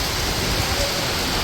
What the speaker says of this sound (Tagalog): Lakas po ng ulan, tsaka po hangin.